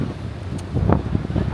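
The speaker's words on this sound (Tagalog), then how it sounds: "Kusog kay hangin" Strong wind gusting outdoors in Tokyo in winter roars and buffets the microphone close up in uneven surges, with brief rustling.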